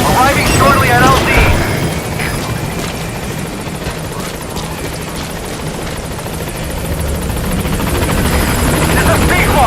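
A helicopter from the video game Metal Gear Solid V approaches a landing zone, its loud, close rotor roar and engine whine filling the scene continuously, swelling slightly toward the end.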